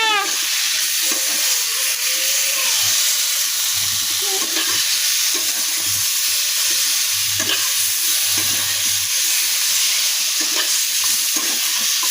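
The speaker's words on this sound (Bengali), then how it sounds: "আলু পটল দিয়ে একটু ঝোল করে নিচ্ছি" Potato and pointed gourd curry with black cumin, salt and turmeric cooks in a pan with a steady broadband sizzle and occasional stirring scrapes, continuous and close throughout.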